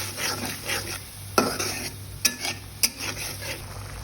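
Prawns being sautéed in a pan with water added for kosha, soft sizzling and bubbling beneath a few sharp metallic scrapes and taps of a spatula stirring against the pan, close by.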